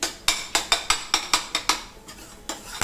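Rapid taka-tak clanging of a metal spatula chopping and stirring eggs for anda ghotala on a hot tawa, Mumbai street-food style: about a dozen sharp, ringing strikes at an even beat, close and loud, with a short pause near the end.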